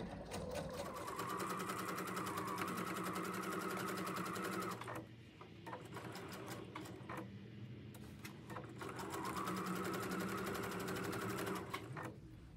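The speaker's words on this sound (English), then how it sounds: "I'm just gonna sew really close to that edge just to close up that hole" Sewing machine running in close stitching bursts along the edge of a lined sunflower apron, a steady mechanical whir with rapid needle ticks, pausing briefly midway before resuming, close and loud with no talk.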